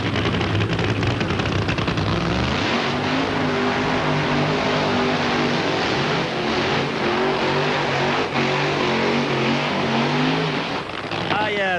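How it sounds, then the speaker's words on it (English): NHRA funny car burnouts from the 1996 drag racing season: a continuous, loud, thundering engine roar with rising revs that fills the whole stretch, crowd and track noise mixed in and commentators talking faintly underneath. "Let's listen to the burnouts first."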